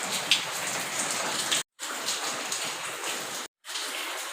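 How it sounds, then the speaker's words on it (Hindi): Heavy rain pours steadily outside a balcony in a dense, continuous hiss, close and loud, broken by two brief silent cuts. "बारिश है बहुत तेज़।"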